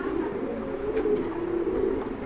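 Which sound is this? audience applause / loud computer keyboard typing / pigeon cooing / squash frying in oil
pigeon cooing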